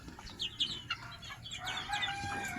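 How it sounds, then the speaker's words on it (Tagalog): Hens cluck and squawk close by, followed by a longer drawn-out call resembling a rooster crowing amid ongoing farmyard bird noise from fighting cocks. "marami din silang mga alagang manok"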